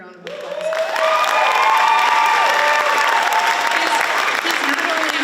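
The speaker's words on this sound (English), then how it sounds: "he needs a big round of applause" A school auditorium crowd at Hibbing High School's 100-year celebration claps and cheers for the stage crew member. Loud, sustained clapping rises quickly and holds, with cheering and whoops mixed in.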